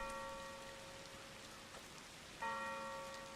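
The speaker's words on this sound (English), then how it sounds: "The church bell's going." A church bell tolling in the video game Closer The Distance, two soft sustained strikes with ringing overtones, faint and distant over a quiet hiss of rain.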